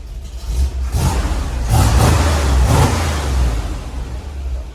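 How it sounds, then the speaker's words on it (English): A car engine with a rough cam runs through a makeshift exhaust: an uneven, lumpy idle close by, swelling with a few short revs in the middle before settling back down. "it's still got a rough cam. It's never gonna idle perfectly."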